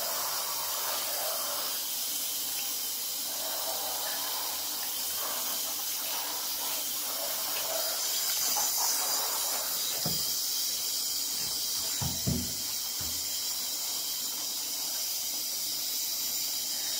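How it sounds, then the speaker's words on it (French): Water spraying to rinse a rusty Bidalot exhaust pot for a Fox, a steady, close hiss running throughout, with a few low knocks and clunks near the end. "Je vais déballer et je vais rincer."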